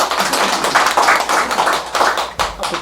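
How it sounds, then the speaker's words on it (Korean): Applause welcoming a lecturer to a meditation study class, a small audience clapping briskly and unevenly, individual claps distinct and close, with no talk over it. "큰 박수 부탁드리겠습니다"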